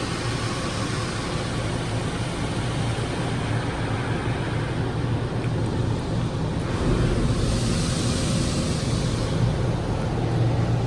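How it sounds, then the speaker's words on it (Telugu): An automatic car wash in America drums high-pressure water down onto a car from above, a dense, loud, steady rushing spray that fills the space without pause, heard from inside with no talk. "ఇప్పుడు చూడండి వాటర్ మళ్ళీ పైనుంచి హై ప్రెషర్గా వస్తున్నాయి అనమాట"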